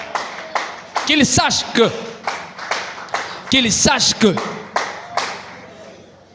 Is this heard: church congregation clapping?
yes